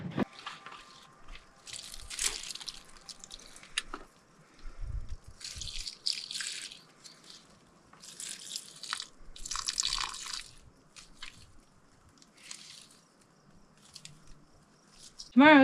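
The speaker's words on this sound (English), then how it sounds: "I'm gonna go ahead and water them" Plants being watered by hand on a warm day, with irregular bursts of splashing and dripping water coming in short spells between quieter gaps, fairly close.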